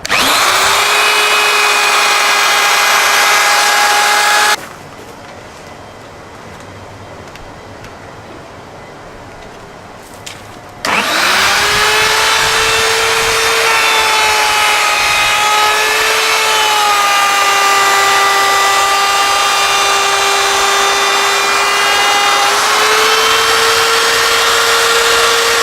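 A power tool trims a circular scaffold-board tabletop into a 36-inch circle, whining loudly and steadily up close, then stopping for several seconds before starting again and running continuously to the end.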